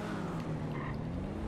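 Batmobile car in GTA V Online firing its booster: a steady, loud engine roar with rumbling low drone, continuous throughout with no voices.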